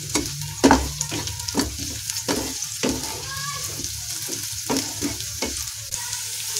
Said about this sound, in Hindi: और ये हमारे प्याज भुनने लगे हैं।